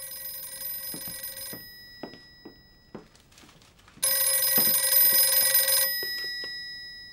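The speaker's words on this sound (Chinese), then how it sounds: "哥哥去接个电话。" An old-fashioned telephone bell rings in two long bursts with quiet gaps of faint room noise and small knocks between them, close and fairly loud in a period drama setting.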